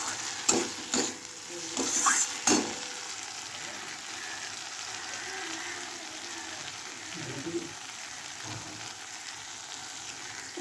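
Garlic sautéing with potato, pointed gourd and egg for a thick curry, a steady broadband sizzle with a few sharp spoon scrapes and knocks early on, then quieter continuous frying.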